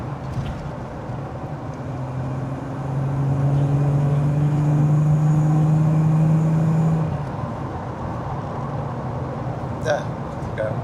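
Jaguar XJS V12 with a six-speed automatic drives along with a steady engine drone that rises in pitch, holds, then drops smoothly as a gear changes, heard from inside the cabin while people talk.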